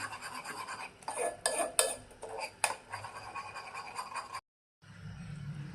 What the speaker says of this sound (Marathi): त्यासाठी वेलची पूड देखील छान मिक्स करून घ्यायची